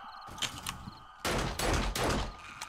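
Shotgun fire in the zombie survival game 7 Days to Die, with a few quieter clicks followed by a burst of loud, close blasts in quick succession.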